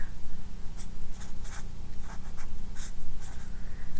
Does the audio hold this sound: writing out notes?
yes